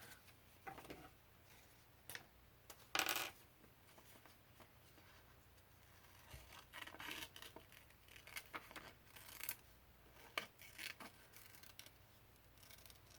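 Scissors snip through paper for a country store junk journal, with scattered close crisp cuts, rustles and crinkles over a quiet room.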